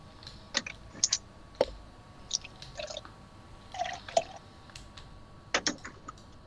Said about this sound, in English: Nice water sounds.